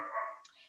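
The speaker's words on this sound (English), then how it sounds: "If you're hearing that barking," A single dog bark, fairly faint and slightly distant, drawn out with a brief scuffle of noise at its tail.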